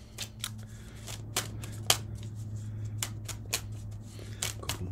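Playing cards are shuffled repeatedly up close, with crisp riffling bursts and snaps at irregular intervals over a low background hum.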